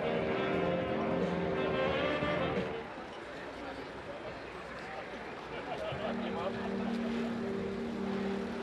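Piston engine of an American Champion 8KCAB Super Decathlon aerobatic aircraft at a display, a droning buzz that dips mid-clip and then rises again with a steady tone, heard from a distance under outdoor noise.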